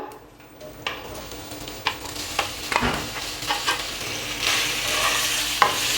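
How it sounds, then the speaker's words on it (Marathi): Cumin, asafoetida, white sesame, curry leaves and sliced green chili sizzle and crackle in hot oil after mustard seeds pop, with steady frying hiss and several stirring clinks and scrapes throughout, no talk. "राई तडतडली की ह्याच्यामध्ये जिरं घालू हिंग सफेद तीळ कढीपत्त्याची पानं हिरवी मिरचीचे काप हे चांगलं परतून घेऊ"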